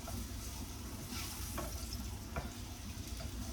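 Ripe plantain slices fry in a pan, a soft steady sizzle with faint crackles and small pops, heard close and quiet with no talking.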